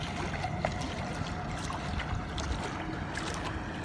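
Remote-controlled fishing bait boat with a Falcon 5010 motor and a 2.5 kg load runs over small waves, water splashing and slapping steadily with faint intermittent ticks, at moderate distance.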